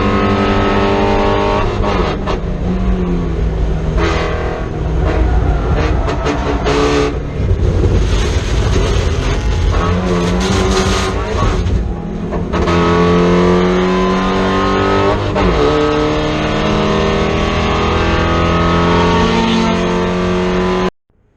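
A Mazda Miata race car engine revs hard on track, with throttle lifts and rising, falling pitch sweeps, loud and close throughout with no talking.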